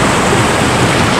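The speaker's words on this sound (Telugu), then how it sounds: "ఆ నీళ్ళన్నీ మొత్తం జారి కిందకు వచ్చేస్తున్నాయి అనమాట" Rainwater rushing down over rocks at a small hillside waterfall near Hyderabad, a loud, continuous close roar of water with nothing else over it.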